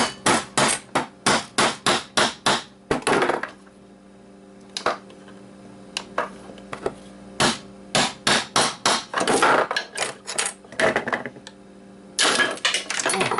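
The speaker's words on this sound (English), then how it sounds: "And then let's hammer out the platter." Rapid bursts of metal hammer blows strike an Xbox hard drive to knock out its platter, hard close strikes coming in quick runs with short pauses between them over a low steady hum.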